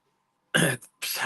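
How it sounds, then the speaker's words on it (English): A couple of sharp, raspy throat-clearing bursts close to the microphone, separated by short silences, with a small grunt between them. "Clearing my throat so much"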